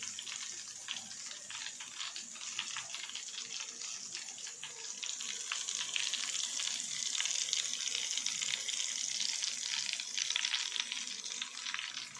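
Green plantain slices for chips crackle and sizzle steadily in hot oil, a dense bubbling hiss that swells slightly louder partway through.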